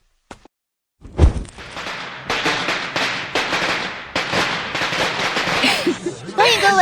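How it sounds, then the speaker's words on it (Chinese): A string of firecrackers goes off to celebrate a shop's opening, a rapid crackling barrage of sharp pops that starts abruptly after a brief silence and keeps going loud and close, with a few voices underneath. "相公，是时候该放鞭炮了。"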